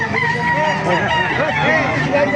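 Roosters crow amid a busy chicken market in Baliuag, Bulacan, with loud overlapping calls and clucks close by under continuous crowd chatter and talk.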